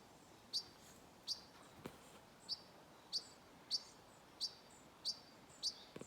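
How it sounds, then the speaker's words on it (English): A small bird calls repeatedly from a tree on a site where large trees are being cut, giving short high chirps about every half to one second, faint and somewhat distant with no other sounds. "This little bird up here making a noise."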